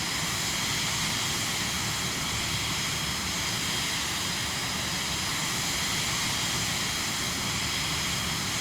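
Cirrus Vision Jet G2 jet engine in Microsoft Flight Simulator, a constant loud broadband roar with a steady whine, unchanging for the whole stretch, no voices over it.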